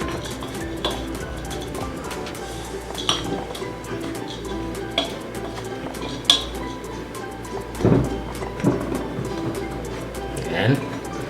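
Dry baking ingredients and peanuts are stirred together in a bowl, with scraping and clinking of a utensil against the bowl that keeps up through the clip under background noise and a few sharper knocks.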